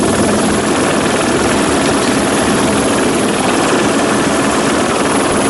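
Helicopter in flight, a loud, dense, unbroken rotor and engine roar filling the whole stretch at close range.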